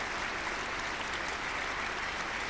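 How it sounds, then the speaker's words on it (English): Crowd applause at a 1981 England versus Australia Test cricket match, a dense, even wash of clapping sustained throughout, moderately loud with no clear talk. "And applause all round for Dyson."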